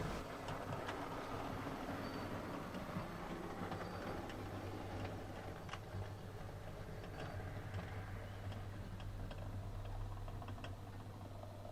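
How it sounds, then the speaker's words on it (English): Steam locomotive, a small Southern Region tank engine, runs through a station at a steady low rumble with a sustained hum, light rattling and scattered clanks, fairly quiet and continuous with no talk. "She runs through the station and joins the Ivet tank on the Shed Road for the night"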